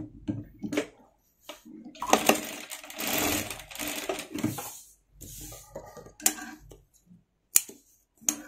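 A sewing machine stitches the back part of a maggam blouse in short, fairly quiet bursts of whirring needle action, separated by pauses with light handling clicks.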